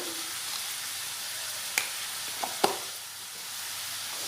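Diced potatoes with turmeric and salt frying in a pan for Bengali ghugni, a soft steady sizzle with a few sharp clicks of a utensil stirring against the pan.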